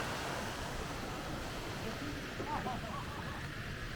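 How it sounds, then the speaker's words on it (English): Steady rushing of flowing water at Minoh waterfall in Osaka, a broad continuous wash holding an even level throughout with no break. "the flowing water is just there"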